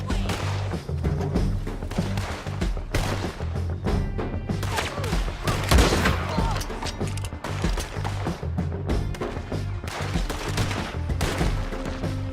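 Gunfire in Red Dead Redemption 2, repeated overlapping shots and thuds over game music and ambience, dense and loud throughout with brief voices mixed in.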